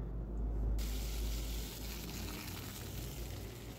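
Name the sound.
potatoes frying in a pan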